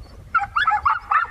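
A hunting dog in a rabbit-hunting pack gives a quick run of high, excited yips and whimpers, close and clear over a low rumble of wind or handling noise.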